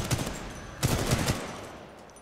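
Rapid gunfire in the video game Titanfall 2, with dense bursts of automatic shots and echoing reports in two main volleys that fade into a decaying tail, and no talking.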